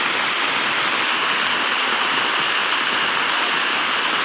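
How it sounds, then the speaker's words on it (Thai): Heavy rain pours down outside a house in Thailand, a dense, steady broadband hiss of falling water that stays loud and unbroken throughout, with no talking. "ฝนตกแล้วครับฝนตก"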